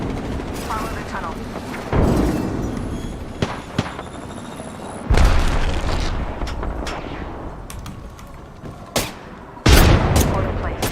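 Video game combat with bursts of gunfire and booming blasts, including a grenade explosion, arriving in several loud sudden hits over a continuous rumble, with players talking throughout.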